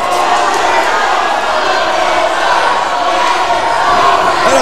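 Wrestling match crowd on its feet at a Reality of Wrestling event, a loud, sustained roar of cheering and shouting that fills the whole stretch without a break, with broadcast commentary voices underneath.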